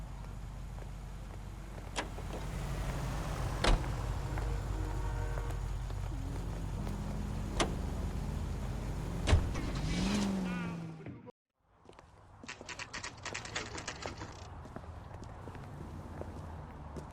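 Video game sounds of a car door and a car driving, a steady engine rumble with a few sharp knocks, then a brief drop out before lighter clattering noises, with people talking over it.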